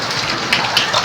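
Heavy rain pours down in a village, a loud, continuous wash of falling water with a few brighter splashes, heard alone over a brief stretch.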